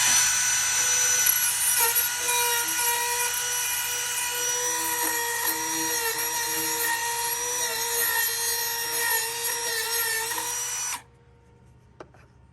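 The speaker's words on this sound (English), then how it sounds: "I got a Dremel here I'm going to clean it up with" Dremel rotary tool grinding and smoothing a sharp plastic speaker cutout on a Centurion Maximus boat, a steady high-pitched whine held loud and close for about eleven seconds before cutting off into near silence.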